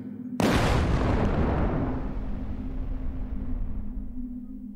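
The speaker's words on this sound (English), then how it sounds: "He just keeps exploding." Animated Minecraft creeper explosion: a single sudden loud boom that decays slowly into a long rumbling tail, alone without talk.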